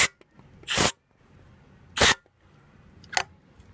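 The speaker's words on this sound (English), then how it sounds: "I'm gonna first spray some fuel into the carb." Starter fluid sprayed from an aerosol can into the carburetor of a big 8.4-liter, 500 cubic inch Cadillac V8, three separate hissing bursts, the first two long and strong, the last short and lighter, with quiet pauses between.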